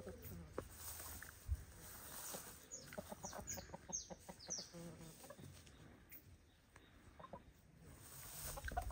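Chickens cluck and squawk in short bursts nearby, a rooster among them, with faint talking in the background.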